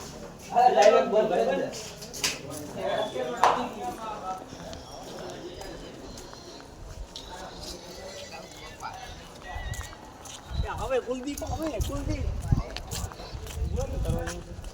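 A mare's hooves clip-clop in irregular, close taps along a path outdoors, some louder bursts at first, with people talking nearby and faint birdsong behind.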